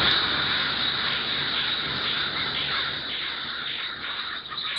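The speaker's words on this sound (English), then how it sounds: "This is focused on crows and what they might be saying to each other." Crows caw against a steady rushing background outdoors on a university campus in winter, the calls faint and scattered over a constant hiss.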